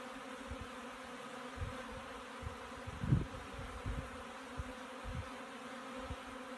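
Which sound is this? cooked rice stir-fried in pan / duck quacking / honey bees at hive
honey bees at hive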